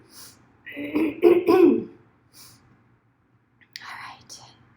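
A woman at a Zumba class coughing: a short cluster of raspy, breathy coughs near the start, then a softer throat-clearing cough after a pause, close to the mic.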